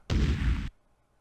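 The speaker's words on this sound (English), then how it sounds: "The ship rises successfully but collides with the top of the freighter." A spaceship collides with the top of a freighter in the computer game Space Quest III, producing one loud, dense explosion burst of about half a second that cuts off abruptly into silence.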